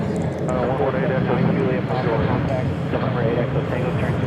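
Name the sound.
Southwest airliner taking off from runway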